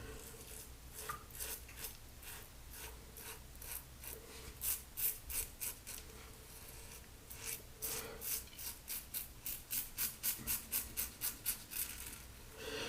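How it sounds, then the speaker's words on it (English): A Rockwell 6S safety razor shaving close up, with rapid series of crisp scraping strokes in bursts, quiet and rhythmic, the cutting rasps clustering into quick runs without any speech. "Very good audible feedback while you're shaving, and also a sound that's kind of unique to the razor"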